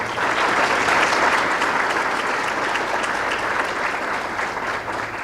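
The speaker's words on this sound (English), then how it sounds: "We'd like to give both the ABC Club as well as our food services a big round of applause for the wonderful meal" Banquet guests at a high school distinction dinner give a full round of applause, a dense, steady wash of clapping from many hands that stays loud the whole time.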